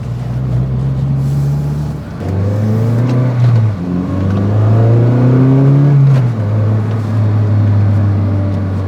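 A Honda Civic Type R FD2 is driven with a loud engine drone heard from inside the car. The pitch climbs as it revs through the gears, then settles into a steady cruise.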